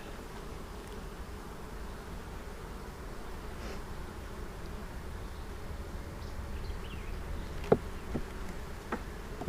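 A steady, low hum of honeybees buzzing fills the air around an open beehive during an inspection while boxes are added, with a few brief clicks near the end.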